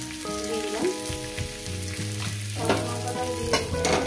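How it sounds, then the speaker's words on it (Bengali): Eggplant and tomato fry in hot oil in a pan, a steady close sizzle with stirring and utensil scrapes running throughout, no voices. "দিয়ে এটাকে আমি ভেজে নেব, মিনিট 3 করে ভেজে নেব, 3-4 মিনিট করে।"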